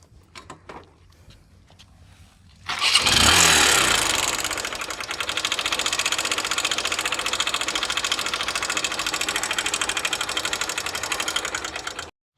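A 2012 Hero CBZ Xtreme motorcycle in worn condition starts after a few quiet clicks, then runs loud and close with a rough, rapid tractor-like chugging that stays steady to the end.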